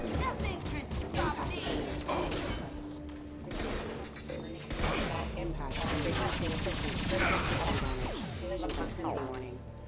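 Dense, loud gunfire from a Mass Effect 2 battle on Insanity difficulty, with repeated shots, crashes and impacts running through the whole stretch, along with a voice talking over the fighting.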